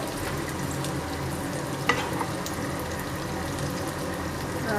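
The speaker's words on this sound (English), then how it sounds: "let the oysters cook in just a little bit more of oil" Steady oily sizzling and crackling of oysters frying in a pan for an omelette, continuous and close, with a brief clink partway through.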